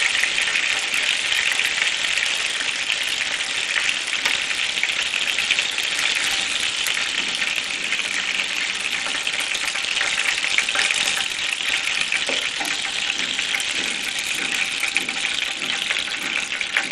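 Steady, dense frying hiss from hot oil where chicken drumsticks wrapped in bacon were fried, continuous and close, with no voices over it.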